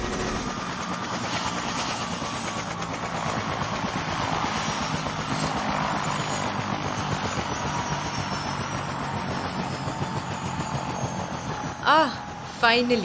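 An aircraft landing at Srinagar Airport, a steady broadband engine roar from inside the cabin that holds for most of the stretch, with a brief voice and a couple of thumps near the end.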